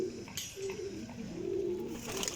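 Paired flying pigeons coo softly and repeatedly, low murmuring calls rising and falling close by over a faint background hiss.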